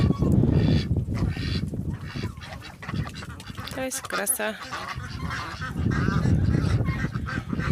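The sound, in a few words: geese honking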